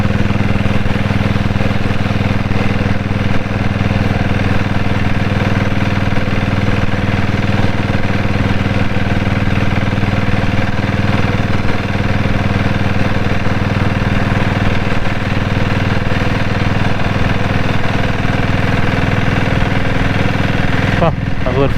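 Steady engine drone of a diesel Royal Enfield Bullet motorcycle being ridden solo on a rough road, a constant low thrum filling the whole stretch with no pauses.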